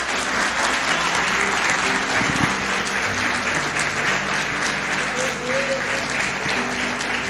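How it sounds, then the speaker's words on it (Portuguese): Church congregation applauding during a worship service, a dense, steady wash of clapping from many people that fills the room throughout, with soft voices faintly underneath. "Vamos aplaudi-lo, Ele merece."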